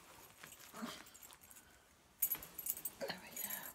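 A bunch of keys jangles and clinks in short metallic bursts while a package of mail is being opened, fairly close and moderately loud, with handling noise around it.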